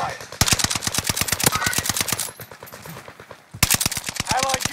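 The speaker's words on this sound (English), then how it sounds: "Engaging the turret." Rapid bursts of turret machine-gun fire in a military shooter game, loud and close, in two sustained strings separated by a short pause, with game voice chatter faintly underneath.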